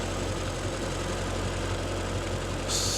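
An MG Midget engine idles with the choke pulled out to raise the revs, a steady close rumble with a faint regular knock and a brighter hiss appearing near the end.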